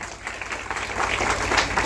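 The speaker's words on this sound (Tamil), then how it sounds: "கைத்தட்டுங்க." A crowd claps to welcome bishops at a church opening in a Tamil village, a short, steady burst of dense applause that builds slightly toward the end.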